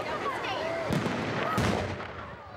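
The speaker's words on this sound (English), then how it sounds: "Hundreds of people were treated to the Gate City Fireworks Spectacular at the White Oak Amphitheater earlier this evening." Fourth of July fireworks at the Gate City Fireworks Spectacular, White Oak Amphitheater in Greensboro, crackle and boom in a dense barrage with a couple of sharper bursts, heard under a news narration voice.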